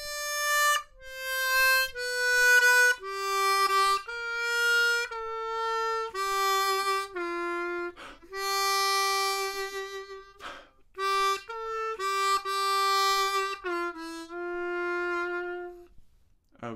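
A harmonica plays the opening line of a theme: a slow, sustained solo melody of held, bending notes, close and clear, with no accompaniment.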